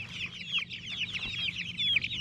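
Three-week-old Jumbo Cornish Cross chickens in a chicken tractor on grass cluck and peep continuously in a soft, busy chorus, fairly quiet and close, with no voices.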